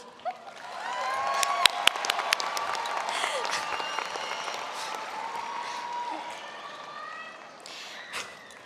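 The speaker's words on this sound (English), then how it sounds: "Now give a round of applause for the graduating class." A high school graduation crowd applauds the graduating class, a broad, sustained roar of clapping swelling early, holding steady, then thinning toward the end, with a few scattered sharper claps and faint voices mixed in.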